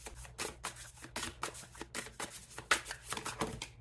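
A deck of tarot cards is shuffled close up in a rapid series of crisp riffling bursts, about a dozen quick flutters spaced unevenly, alone and fairly quiet.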